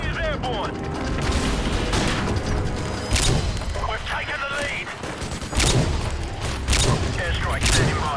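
Gunfire in the video game Call of Duty: Modern Warfare 2, a loud, dense stream of rapid shots and booming impacts that continues without pause through a chaotic firefight.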